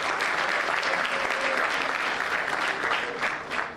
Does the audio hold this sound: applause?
yes